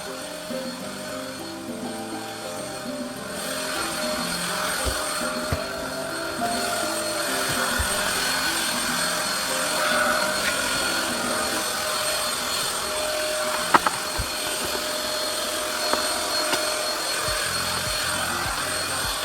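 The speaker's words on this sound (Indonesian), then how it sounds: "Ini lanjut aku vakum ya teman-teman." A vacuum cleaner runs steadily while cleaning a house, its loud continuous motor whine and airflow roar holding level throughout, with a few sharp clicks and knocks of the nozzle against floor or furniture.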